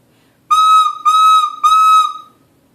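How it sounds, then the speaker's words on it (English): A recorder blown with fast, cool air gives three shrill, sustained high notes in a row, loud and close, each about half a second with short gaps. "I'm going to blow fast, cool air into my recorder like I'm blowing out a birthday candle."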